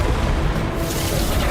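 Bombarda spell blast in Hogwarts Legacy: a loud, heavy booming explosion with deep rumbling low end and a rushing whoosh, sustained over a second and a half with no voice over it.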